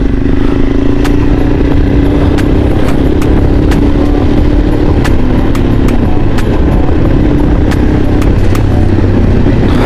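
A motorbike engine in the Sikkim hills, run again after sitting a long while, chugs loud and close at a steady idle with a regular low throb and sharp clicking ticks throughout.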